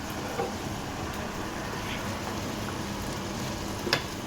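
Tomato chutney being stirred in a frying pan after a pinch of chilli powder gives a continuous, even sizzle with a couple of faint scraping knocks.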